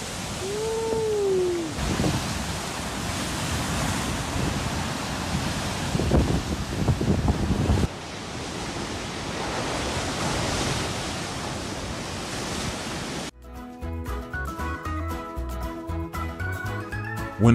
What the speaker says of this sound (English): Dangerous high waves in Biarritz.